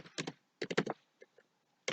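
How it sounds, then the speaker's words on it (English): Typing on a computer keyboard during SQL coding, close and fairly quiet, with short bursts of rapid key clicks separated by pauses and a few isolated taps. "I'm tired of typing"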